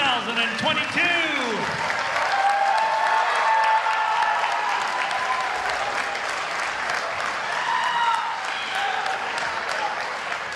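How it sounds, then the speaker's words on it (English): A concert audience at a high school chorus spring concert gives the graduating class of 2022 a big round of applause, dense and loud throughout, with a voice briefly heard at the start and some cheering mixed in. "one more nice big round of applause for the class of 2022"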